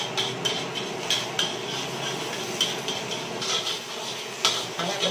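Sausage, shrimp and meatballs fry in a pan for Indonesian mie goreng, with a steady sizzle and repeated clinks and scrapes of a utensil stirring against the metal.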